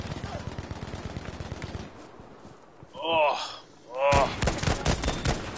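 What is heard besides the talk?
gunfire in the video game Battlefield V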